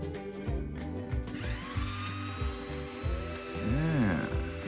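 A belt sander working over wooden planks screwed to a board, whining in a steady, close drone whose pitch rises and falls as the load changes, with no talking.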